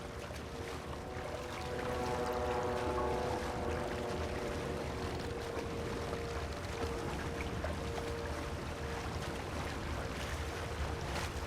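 A canoe is paddled quietly across open water in Red Dead Redemption 2, with a steady wash of water and wind throughout and faint tonal music lines near the start.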